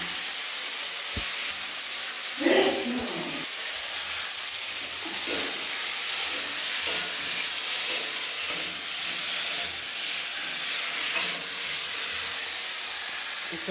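Ginger, cumin and dried chillies fry in hot oil, giving a steady close sizzle and hiss. A few brief crackles and stirring sounds come early before the spitting settles into an even wash, with no voices.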